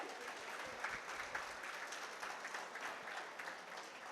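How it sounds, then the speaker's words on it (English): Faint, steady clapping fills the air at a college campus alumni meet as the audience applauds the non-teaching staff, a continuous distant patter with no break or voices. "So a big round of applause for them again"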